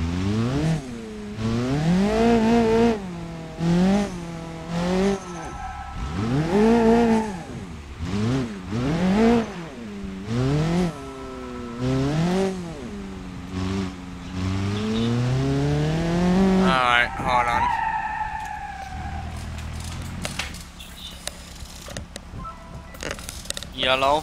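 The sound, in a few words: car drifting, engine revving and tyres squealing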